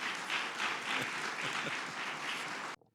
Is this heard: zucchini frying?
no